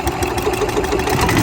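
A Club Car golf cart engine runs steadily at idle during a carburetor adjustment, a close, continuous low chugging rumble with slight uneven knocking and no voices over it.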